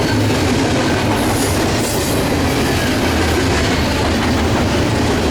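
A freight train with an NS locomotive trailing passes close by, its wagons giving a loud, continuous rumble with clickety-clack wheel noise throughout and no voices.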